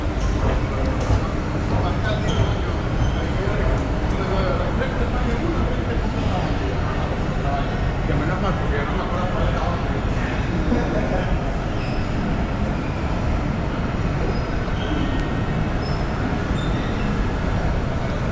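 Lisbon metro train rumbling loudly and continuously with broadband rail noise throughout, close by, with voices mixed in.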